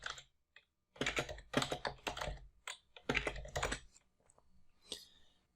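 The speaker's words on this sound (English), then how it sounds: "I'm just going to type out my Twitter handle." Fingers tap a computer keyboard while typing out a Twitter handle, close and fairly quiet: bursts of quick clicking keystrokes separated by short pauses.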